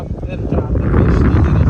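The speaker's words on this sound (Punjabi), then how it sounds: "ਹਵਾ ਚੱਲਦੀ ਬੜੀ ਪਿਆਰੀ ਹਵਾ ਚੱਲਦੀ ਠੰਡੀ" Steady wind at a beach in Jeddah at dusk, rumbling and buffeting against the microphone, a low continuous roar outdoors that grows slightly stronger.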